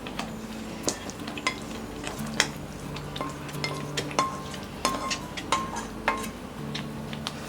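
A spoon stirs and mixes white pasta sauce in a pan with cooked vegetables, making soft, irregular scrapes and light metallic clinks against the pan, quiet and close.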